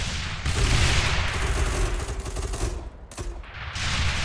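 Mortar towers in the tower-defense game Rogue Tower fire in rapid overlapping volleys, dense booming bursts that keep up steadily over the whole stretch, loud and close.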